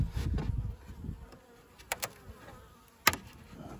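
Honey bees hum faintly around an opened overwintering hive, with a few brief louder buzzes of single bees passing near amid quiet handling noises.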